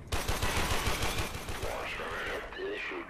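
Rapid automatic gunfire from the Warframe video game rattles in a fast, steady stream and then fades. Voices can be heard faintly under the shooting.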